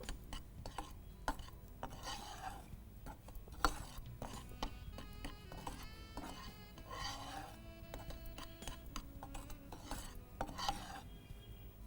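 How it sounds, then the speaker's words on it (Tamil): Flour roasting in a pan, stirred steadily with a spoon, gives a continuous close scraping and rasping with frequent metal clinks against the pan, moderately quiet. "நல்லா வாசனை வர அளவுக்கு வறுத்துக்கோங்க."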